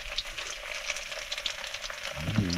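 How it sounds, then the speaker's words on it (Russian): Pancakes fry in a pan at a remote camp deep in the taiga, giving a continuous close hiss of sizzling oil. The sizzle is steady, with a brief louder crackle near the end. "Блинчики жарим."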